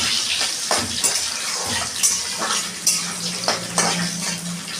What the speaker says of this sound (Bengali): কাজু কিশমিশটা একটু নাড়াচাড়া করবো ভালো করে।